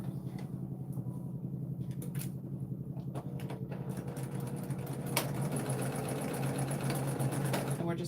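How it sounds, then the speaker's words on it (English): A sewing machine stitches the edges of a sardine-tin tote bag lining closed, a fast steady mechanical hum with rhythmic needle clatter, close and continuous, with a brief knock partway through. "So I'm just going to sew the 2 edges closed"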